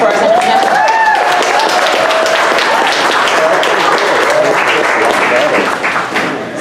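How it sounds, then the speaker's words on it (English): Sustained audience applause for a presenter at a startup pitch event in Dallas, a dense continuous clapping from a sizable crowd that holds steady and begins to fade near the end. "we'll give a round of applause for our second presenter"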